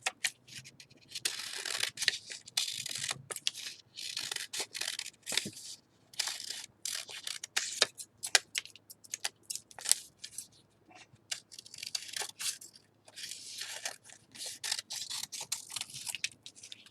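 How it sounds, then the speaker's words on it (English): Scissors snip through two layers of paper around a traced handprint, quick crisp cuts in uneven bursts with rustling paper between, close and without talk. "And now holding it tight, I'm cutting around my fingers."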